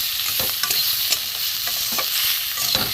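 Ground masala spices sizzle in a little oil for a light bata fish curry with pointed gourd and potato, a steady bright hiss broken by scraping stirs of a spatula, close and continuous, with no voices.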